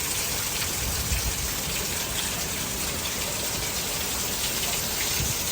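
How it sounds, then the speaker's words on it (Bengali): Steady rain falls heavily during a thunderstorm, a dense continuous hiss of drops hitting surfaces, close and even throughout with no voices. "আমি ফোন আনতে আনতে তাও বৃষ্টিটা অনেকটা কমে গেছে, না হলে একটু জোরে বৃষ্টি হচ্ছে।"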